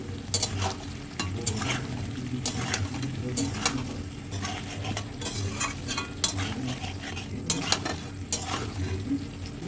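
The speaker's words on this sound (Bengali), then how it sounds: "এখন দিয়ে দেবো এই পরিষ্কার করে রাখা ঠ্যাংগুলো ভালো করে নেড়ে নেব" Cleaned chicken feet are stirred in a cooking pan, giving a low sizzle with frequent sharp spatula clacks and scrapes against the metal at an uneven rhythm, while someone talks in the background.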